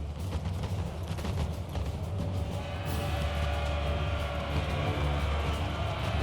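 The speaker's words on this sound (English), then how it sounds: "These guys look like they may try to fire into the melee." Volleys of musket fire from grenadiers in an Empire 2 multiplayer battle, a dense crackle of shots rolling over a constant low battlefield rumble, sustained at moderate distance.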